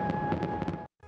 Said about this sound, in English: Fireworks over Lake Blue Ridge on July 4th.